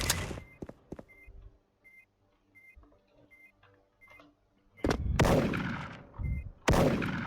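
Gunfire in a fast-paced video game, a few sharp shots early followed by quieter beeps and clatter, then heavy loud bursts of shooting near the end, close and punchy with no talk.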